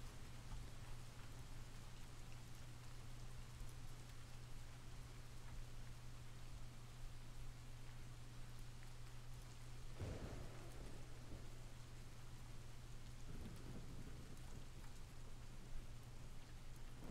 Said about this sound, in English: this is rainymood.com, not actual rain for those just joining us